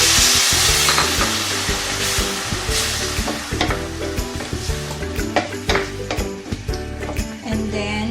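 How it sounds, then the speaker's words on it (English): Loud, steady sizzling and crackling from a hot frying pan as about half a cup of water is added, with bursts of bubbling spatter and occasional scraping. "So we're adding the water."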